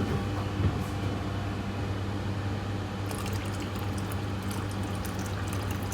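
Water pours steadily into a particle size analyser with a continuous gurgling rush, accompanied by a constant low mechanical hum.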